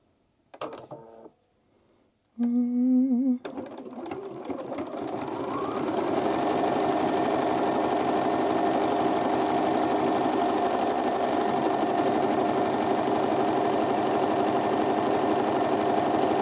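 A sewing machine stitches a buttonhole on an oversized blazer, starting with a few short whirring bursts and clicks, then running in a steady, close, mechanical hum for over ten seconds.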